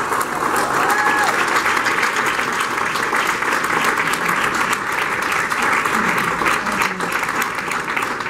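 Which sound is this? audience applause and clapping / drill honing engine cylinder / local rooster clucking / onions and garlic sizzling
audience applause and clapping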